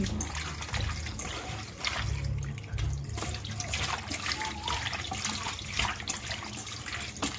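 Cow skin being rinsed under running tap water in a kitchen sink while preparing kilawin, a steady splashing and trickling stream with handling noises throughout.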